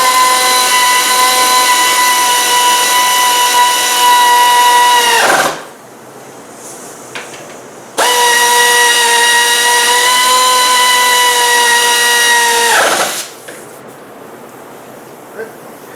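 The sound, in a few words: power tool with socket running down C4 Corvette wheel bearing bolts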